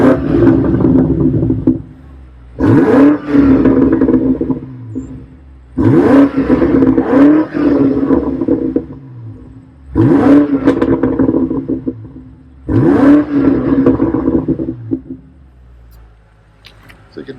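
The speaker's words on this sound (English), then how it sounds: "So let's do a couple revs here." Revs from a warmed-up BMW M8 Competition coupe with M Performance exhaust in Sport Plus mode, four loud blips that rise and fall with crackling burbles, separated by brief idle gaps.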